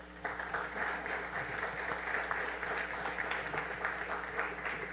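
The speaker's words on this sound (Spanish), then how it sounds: "Un aplauso para ellas, por favor." A room full of people applauds steadily for several seconds, the clapping dense and even at moderate distance.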